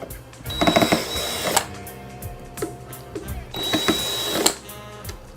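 Screws being driven out of a JBL Venue Sub 10 subwoofer with a power tool, two close whirring bursts of motor whine and ratcheting separated by softer clicks and handling noise.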